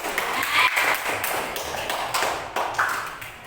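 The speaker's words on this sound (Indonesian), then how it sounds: "tepuk tangan dulu" Audience clapping during an educational talk, a dense patter of hand claps sustained throughout at moderate level, with no clear speech over it.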